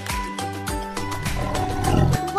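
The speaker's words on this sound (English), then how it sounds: "Tiger! Tiger! Tiger!" A cartoon-style tiger roar from a children's forest-animal song, a loud growling burst rising over bright, busy music with no voices.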